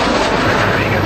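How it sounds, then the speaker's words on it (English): AH-64 Apache attack helicopters firing Hellfire missiles: a loud, dense, roaring blast of launch noise filling the whole brief moment, heavy in the low end with no separate shots. "all 6 Apaches launch their Hellfire missiles"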